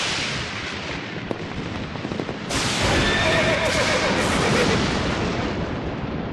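A horse in a Nancy Drew video game lets out a loud whinny over a dense, roaring background rumble, close and prominent, with a short sharp knock just before the noise swells.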